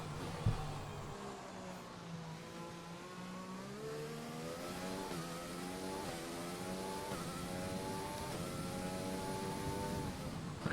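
Race car engine in F1 2020 on the final lap of a rainy race in Hungary, a steady loud high-pitched whine rising and falling through gear changes, continuous and close with no talking.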